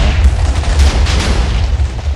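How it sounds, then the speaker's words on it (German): A cannon blows up in the video game WarGear, a loud, deep booming rumble that lingers heavily through the moment. "meine Kanone hat sich in die Luft gejagt"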